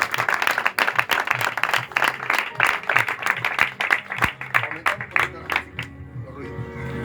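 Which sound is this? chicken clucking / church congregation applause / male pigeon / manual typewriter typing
church congregation applause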